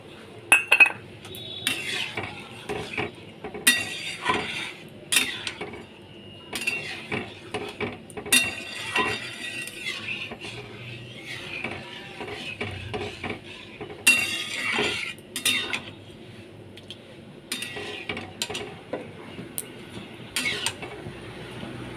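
Semolina halwa being stirred in a pan: a spoon scrapes and clinks against the metal in uneven bursts, close and fairly loud, with quiet gaps between strokes.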